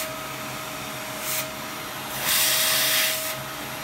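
A vacuum cleaner pulls dust from a 13-inch early 2015 MacBook Pro during a thermal paste change, a steady hiss with a brief burst and then a longer louder suction pass, close and without talk.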